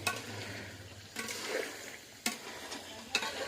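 Meat stirred and frying in a pan at home, a steady sizzle with several louder scrapes of the spoon against the pan at intervals, close and alone with no talk.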